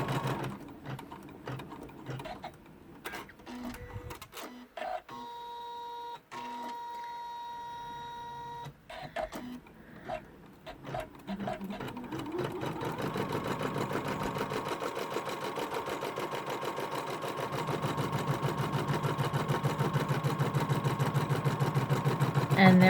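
An embroidery sewing machine stitches a notebook cover in the hoop, sending out quick buzzing bursts with pauses and whining motor tones. It then settles into a steady, rapid, rising run of stitching.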